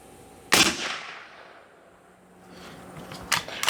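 A Remington Core-Lokt tipped .30-30 lever-action rifle fires two sharp shots at a range. The first loud crack rings out and decays slowly, and a second report follows about three seconds later.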